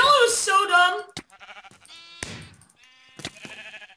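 Sheep in the Minecraft video game bleat in a string of loud, close, wavering calls, followed by shorter game sound effects and brief bleats.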